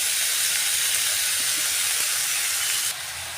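Tomatoes dropped into a hot, dry kadai with no oil or spices give a loud, steady hiss of steam and spray that runs unbroken close up, then drops slightly in level near the end.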